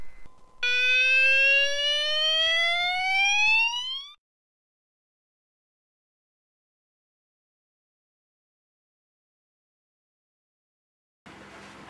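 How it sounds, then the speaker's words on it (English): A bedroom fire alarm system under test sounds a loud rising electronic sweep for about four seconds, then cuts to silence before a brief burst of noise returns at the end. "this is system test 2 of my fire alarm system in my bedroom"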